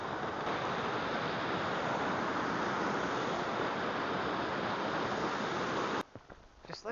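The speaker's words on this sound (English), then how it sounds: "Here's the stream." A stream rushes steadily beside a lake in Montana's Bitterroot Valley in March, a loud, dense broadband wash of flowing water close by that cuts off abruptly near the end, leaving only faint wind and handling noise.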